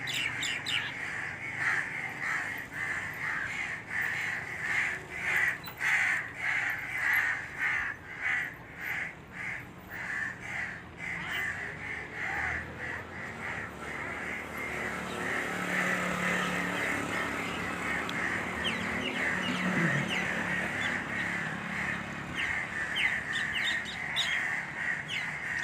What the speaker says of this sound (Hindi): कौवे काफ़ी तादाद में आ रहे हैं।